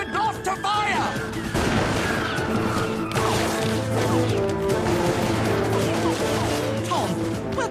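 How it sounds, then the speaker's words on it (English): A chaotic volley of musket fire with sharp cracks and bangs layered over shouting voices and dense background commotion, loud and continuous. "we're being shot at"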